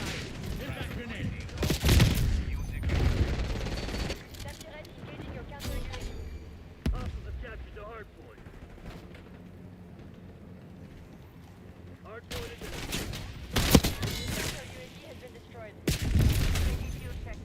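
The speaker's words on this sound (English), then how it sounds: "Impact grenade." Impact grenade and gunfire in the video game Call of Duty Black Ops 6, heard as loud bursts of gunfire and explosive booms at intervals, separated by quieter stretches, with a voice talking over parts of it.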